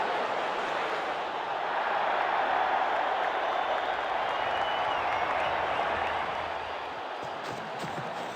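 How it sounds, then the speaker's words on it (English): Video game crowd at a WCC3 cricket match roars continuously after a big six, a dense, steady wall of cheering and applause that eases slightly near the end. "Crowd's gone mad."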